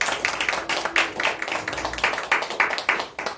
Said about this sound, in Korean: 한번 우리 박수로 한번 맞아주실까요?